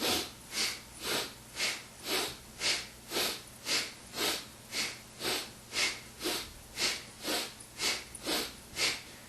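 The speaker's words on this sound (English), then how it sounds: "So inhale, left shoulder up, exhale, right shoulder up" Rhythmic breathing for a yoga exercise aimed at lower back and spine relief: about fifteen evenly paced, airy breaths, each a sharp nasal rush of air in or out, close and steady, with no talking.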